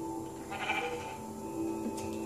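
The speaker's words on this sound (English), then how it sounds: "Get out of here, you sheep." A sheep in the video game Minecraft bleats a couple of short wavering calls over steady game background tones, fairly faint and with no talk over it.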